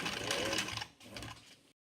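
A sewing machine stitches cloth for a palazzo, running in a fast, close mechanical whir that briefly slows, continues, then cuts off.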